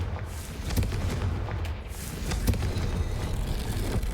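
Hogwarts Legacy video game with the Confringo fire spell cast, giving a dense, continuous roaring burst with repeated booming thuds and crackling impacts, loud and close with no talking.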